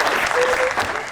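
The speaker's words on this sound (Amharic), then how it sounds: "አጨብጭቡላችሁ።" Studio audience applauding at a quiz-style entertainment show, a dense burst of clapping that stays loud and steady for about a second before easing off.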